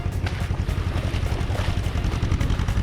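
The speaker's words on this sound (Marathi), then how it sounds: "फोर व्हील ट्रॅक्टर आहे आणि त्याला मागं सोबत ॲक्सेस जोडलेला आहे" A four-wheel tractor with an implement hitched behind runs in a waterlogged paddy field during rice transplanting, its engine a loud, close, continuous rumbling chug with rattling clatter.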